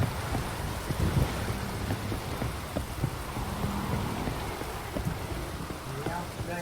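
Heavy rain pours down in the game The Witcher 3: Wild Hunt, a dense, constant hiss of drops drumming on surfaces with low rumbling underneath.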